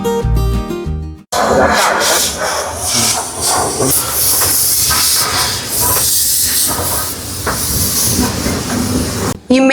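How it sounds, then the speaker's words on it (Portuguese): A steam locomotive at a Campos do Jordão station hisses loudly and steadily as it warms up before departure. A brief burst of music comes first, then the broad, unbroken rush of steam fills the rest. "Só que uns 10 minutinhos antes ele já começa a dar uma aquecida"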